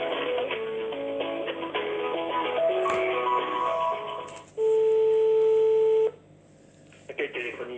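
A telephone line plays a short burst of dial tones and then a long steady tone while a call waits to connect to a switchboard, with a recorded voice speaking before it.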